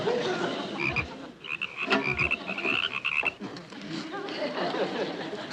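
Frogs croak loudly and repeatedly nearby in a rapid, throaty chorus, with a few brief rises and pauses across the stretch.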